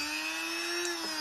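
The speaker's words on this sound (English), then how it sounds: "It's like a Dremel substitute thing. Hobby drill, it's called here." Small handheld hobby rotary drill, a cheap Dremel-style tool, running steadily with an 80 grit sanding drum shaping a violin neck; a continuous high whine holds level throughout, close and loud, with faint grinding texture and no talk.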